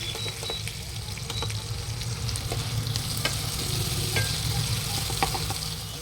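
Tomatoes sizzle and fry in a hot pan while being stirred, a steady dense crackle with occasional scraping taps from the utensil and no talking.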